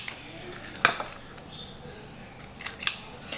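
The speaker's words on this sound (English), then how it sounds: "Now we're going to scoop it onto the baking sheet." Oil-free, low-fat peanut butter oatmeal cookie dough being scooped onto a baking sheet, heard as a few sharp metallic clicks and scrapes of a utensil at irregular moments, with quiet stretches between them.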